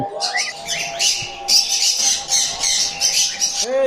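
Sun conure parrots for sale let out a rapid run of shrill, piercing squawks close by, with short calls tumbling one after another.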